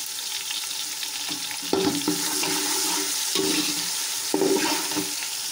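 Ginger garlic paste frying in hot oil with onions for a chickpea biryani, a steady broadband sizzle with a few louder stirring bursts around two and four and a half seconds.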